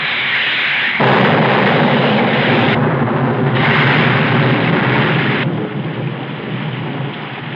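A thunderstorm pours heavy rain while loud rumbling thunder rolls through, the roar swelling and easing in broad waves before settling into a steadier downpour.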